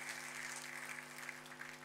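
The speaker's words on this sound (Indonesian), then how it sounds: "Tepuk tangannya boleh paling meriah buat Tuhan kita." A church congregation claps together during a sermon, a dense, continuous, fairly distant applause with no talk.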